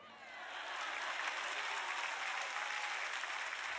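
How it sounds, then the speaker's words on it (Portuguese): A church congregation breaks into applause during a sermon, clapping swelling over the first second and then holding steady and dense, fairly distant and soft in level. "uma salva de palmas para nós"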